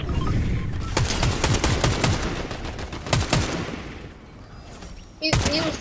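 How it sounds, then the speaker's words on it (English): Heavy gunfire striking the player in Fortnite, dense volleys of sharp shots and rapid bursts in clusters, loud and close, easing briefly before a final sharp blast. "Oh, I'm being shot."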